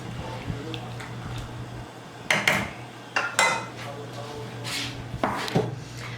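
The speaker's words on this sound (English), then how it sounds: "I'm going to give it a good stir, and then we're just going to allow this to cook until the macaroni is tender" Macaroni cooking in a pot gets stirred with a utensil, producing several clattering scrapes and knocks against the pot over a low steady hum; no talking.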